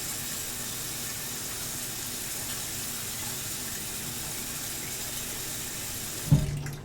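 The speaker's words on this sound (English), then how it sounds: "Almost done filling with the water." Water runs steadily from a tap into a kitchen sink, a constant close hiss and splash that goes on without a break and ends with a brief clunk, no voices over it.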